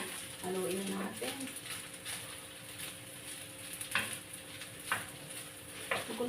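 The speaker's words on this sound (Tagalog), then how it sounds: "Haluin natin." Fried rice (sinangag) stirred in a pan for breakfast, a soft continuous sizzle broken by scraping spatula strokes and occasional light knocks against the pan.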